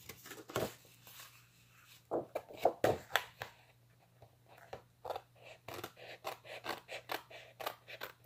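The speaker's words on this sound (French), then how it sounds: "Avec les ciseaux, c'est pas compliqué." Scissors snip through design paper in a series of crisp, close cuts, quiet and irregular, with short pauses between bursts of snipping.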